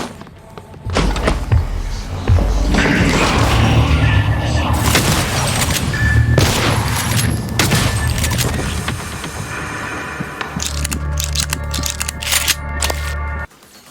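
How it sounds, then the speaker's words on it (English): Shotgun blasts from the video game Prey: a run of heavy, boomy shots with thuds and impacts that fill the mix nearly nonstop, loud and close, ending in a longer final burst. "The shotgun is great though. The sound is boomy and it hits for a ton of damage"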